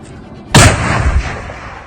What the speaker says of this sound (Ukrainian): Для ролу одна міна постріл.